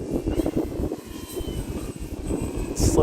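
An Arrows Husky Ultimate RC airplane's electric motor drones steadily under throttle during a Saturday flight outdoors, with a continuous buzzing whine and rough wind noise that swells slightly toward the end.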